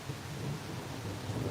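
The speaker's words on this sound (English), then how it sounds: "I feel like there's constant thunder." Thunder rumbles low and far off, a continuous deep roll under a constant hiss of rain.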